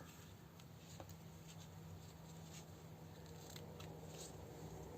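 Scissors cut paper for a scrapbooking project, giving faint, light snips spaced apart over a quiet room hum, soft and close, with no talking.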